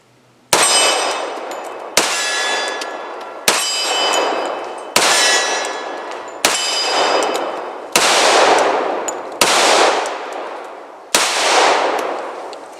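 Eight evenly spaced gunshots from a 1911 .45 handgun, each followed by a bright ringing clang of steel targets, loud and close with short pauses between shots.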